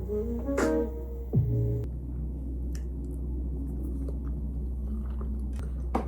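Close, moist chewing and a few soft crunches of a breakfast sandwich, set against a constant low hum in a quiet room.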